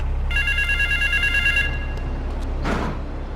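A telephone rings in Grand Theft Auto III, a trilling electronic bell repeating for over a second over a low steady background rumble, followed by a brief whooshing game noise.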